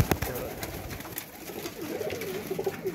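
Pigeons coo softly at middle distance, a low warbling murmur repeating over a busy background with scattered clicks and rustles.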